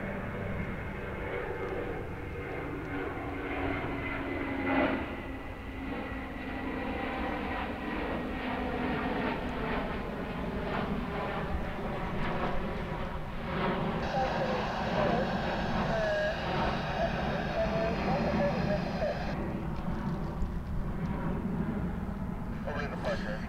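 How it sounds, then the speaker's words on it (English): An Airbus A321 passes at DFW International Airport, its jet roar building and fading at moderate distance, while people talk over it throughout. "And that was an Airbus A321."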